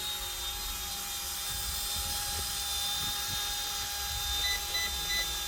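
Steady high-pitched whir of a small RC helicopter rotor, a Carrera Red Bull BO 105 C, hovering continuously, with a constant tonal whine and faint shifting buzz, no talking.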